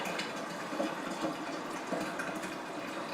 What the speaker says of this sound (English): that's the water going out into the sink